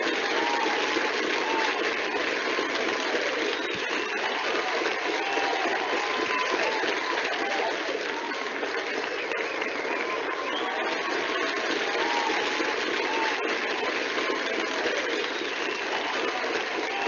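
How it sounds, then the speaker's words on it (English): Steady sustained applause from an audience at a Grade 12 awards ceremony in Johannesburg, dense even clapping that fills the whole stretch without pause. "Thank you, Mr. Sikuni, for that warm round of applause"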